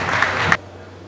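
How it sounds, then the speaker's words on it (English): Applause from a conference audience at a Nigerian bankers' annual conference, a brief burst of clapping that stops abruptly after about half a second, leaving quiet hum. "A round of applause, please."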